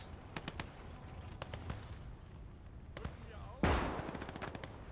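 Gunfire in the World War II game Gates of Hell, with rapid machine-gun bursts rattling in short volleys, followed by a sharp, louder impact of shots striking a tank, with no talking over the firing.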